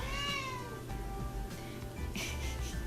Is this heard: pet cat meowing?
yes